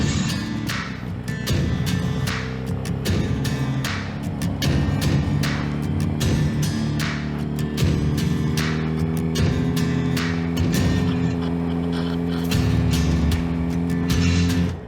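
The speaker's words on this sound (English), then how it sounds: "It's a inline 4." An inline-four motorcycle engine pulls in second gear on a ride, a continuous, loud, even drone with steady harmonic tones and wind rush throughout.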